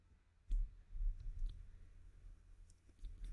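A computer mouse is double-clicked while modelling in Solidworks CAD software, giving a few faint, sharp clicks in pairs spread across a quiet room with no talking.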